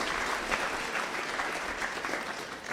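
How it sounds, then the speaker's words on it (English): Summit attendees give a round of applause, a full crowd clapping steadily and fairly loudly throughout without speech on top. "I would really like you guys to give them a round of applause"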